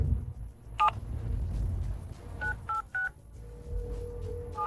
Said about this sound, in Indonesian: Huolin, telepon polisi.